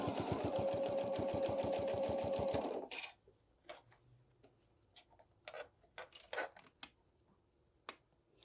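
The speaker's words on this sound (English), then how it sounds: "you're going to be just stitching right there on top of the stitches that you just sewed" A sewing machine stitches over a seam on a bag, running in a fast, even mechanical chatter for under three seconds before stopping, followed by faint scattered clicks and handling sounds.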